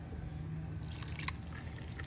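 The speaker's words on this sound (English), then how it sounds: "I have no use for this bouillon cube for anything else, so I'm just gonna pour it all in." Dissolved bouillon cube broth poured from a container into a cooking pot, a soft liquid splash with a few dripping plinks near the end, quiet and close.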